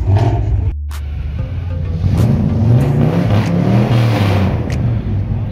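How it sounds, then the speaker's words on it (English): A Mercedes engine rumbles and revs loudly and steadily like an old muscle car, a deep continuous roar building and easing over several seconds at a car meet. "that Mercedes sounds like a old muscle car"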